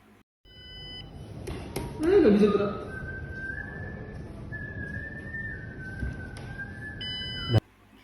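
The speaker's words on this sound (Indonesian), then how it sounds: "buzzer berbunyi saat tidak ada pergerakan di dekat sensor peer" A thin, steady electronic buzzer tone, triggered by a PIR motion sensor detecting no movement, sounds for several seconds, holding one pitch with a slight dip, while a person speaks briefly underneath.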